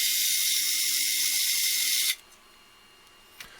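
3D printer running in the background, giving a steady high hissing whir with intermittent low stepper tones for about two seconds, after which it cuts off and leaves a faint quiet room.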